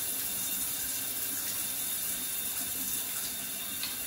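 Shower water running steadily during a hair-care routine, a soft continuous hiss and spray with no talking, ending in a brief sharper splash.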